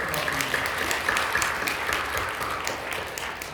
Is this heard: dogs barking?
no